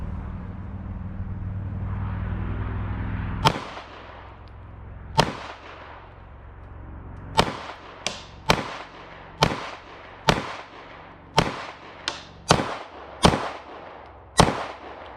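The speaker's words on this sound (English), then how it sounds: "Let's shoot some more." Sharp, loud single gunshots from a Walther PDP 9mm pistol crack out one at a time, about a dozen in total. They come at irregular intervals and speed up toward the end, after a few seconds of low background rumble.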